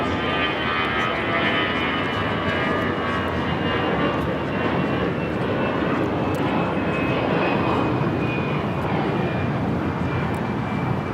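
Delta Airlines Airbus A319 taking off from LAX for San Antonio, a sustained jet engine roar with a high tone that slowly falls in pitch, steady and moderately loud with no talking.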